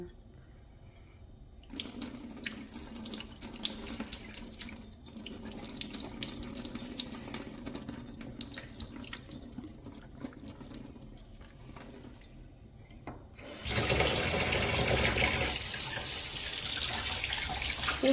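A kitchen tap runs over a raw redfish being rinsed: after a quiet start, water splashes steadily for several seconds, then surges into a louder, fuller rush near the end.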